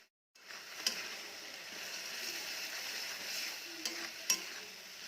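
Green peas frying in a pan with spices, salt and yogurt for a one-pot egg pea pulao. After a brief moment of silence, a steady close sizzle begins, broken by a few sharp clicks from stirring.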